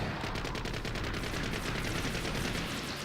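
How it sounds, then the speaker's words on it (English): A Zaku machine gun firing in the Gundam Breaker 3 video game on PS4, loud sustained automatic fire with rapid evenly spaced shots running without a break. "Let's try the Zaku machine gun."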